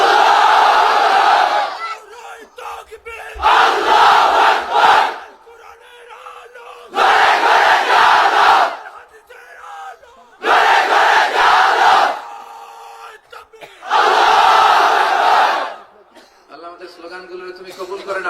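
A large crowd under a pandal at a religious gathering shouts slogans in unison, five loud roaring bursts spaced a few seconds apart, with a single voice leading between them.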